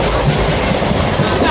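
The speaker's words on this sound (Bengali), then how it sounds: "আমাদের এখন ট্রেনটা ছুটেছে" A local train bound for Digha runs along the tracks, a loud steady rumble with rhythmic clattering of wheels over rail joints, heard from inside the carriage.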